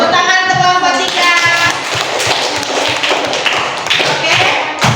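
Students in an Indonesian classroom clap for a discussion group, a loud close burst of hand claps and taps with scattered thuds, lasting about five seconds with a little talk mixed in.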